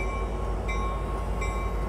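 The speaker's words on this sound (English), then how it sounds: "we got a Union Pacific train coming down there" A Union Pacific freight train rolls past at Emeryville right after an Amtrak Capitol Corridor train, giving a steady, moderately loud rumble with faint high squeals from the rails and no voices.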